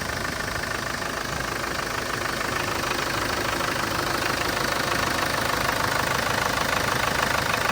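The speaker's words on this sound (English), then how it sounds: "300 TDI engine just doing what it should." Diesel idle of a 1997 Land Rover Defender 90 with the 300 TDI engine, a steady even chugging rumble held close and continuous with no other sounds.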